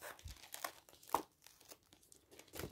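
Paper savings envelopes being handled, giving a few quiet crinkles and rustles with one sharper crackle midway, close up with no talking.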